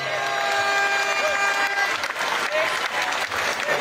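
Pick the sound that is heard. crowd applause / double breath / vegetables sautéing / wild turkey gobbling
crowd applause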